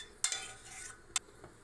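Spoon stirring custard and leftover bread pieces together in a bowl for a mango dessert, giving a couple of quiet scraping clinks and soft wet swishes, close up with no talking.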